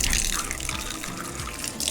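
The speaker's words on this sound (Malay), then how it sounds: "Dan dekat belakang ni ada open shower." Water gushing steadily from an open outdoor shower at a riverside campsite in Sungkai, a dense, continuous close splashing with no talk.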